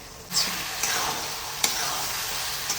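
Spice masala with Kashmiri chilli powder, turmeric, salt and garam masala frying for vegetable biryani, a bright sizzle that swells as it starts, then a few sharp spatula scrapes and taps as it is stirred, close up.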